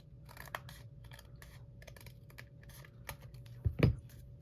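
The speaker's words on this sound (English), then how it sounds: "So I'm just going to use my scissors" Scissors trim paper close up in a quiet room, with small snips and clicks and a couple of sharper cuts near the end.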